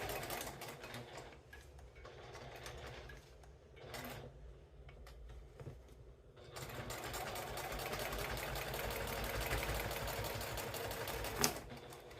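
A sewing machine driven by a knee pedal stitches in bursts, pausing briefly around the middle before a longer, louder steady run of rapid needle chatter, close by and with no talk.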